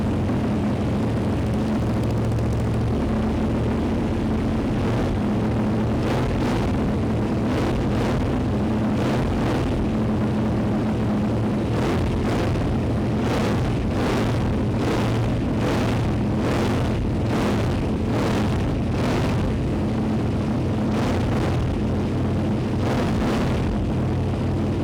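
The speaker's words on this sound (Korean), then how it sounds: "아크라포빅 듀얼 머플러의 배기 사운드를 한번 들어보고요" A 2008 KTM 990 SMT motorcycle with an Akrapovic dual exhaust idles with a loud, steady rumble, then revs up in a run of short throttle blips, each swelling and dropping back to idle.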